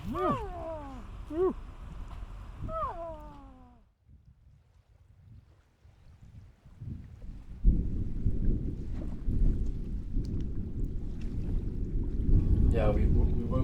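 Thunder rolls through a small bay alcove during a bikepacking trip from Istanbul to Baku: a low, distant rumble swells, then gives way to heavy, steady rain-like noise, with warbling calls heard before it.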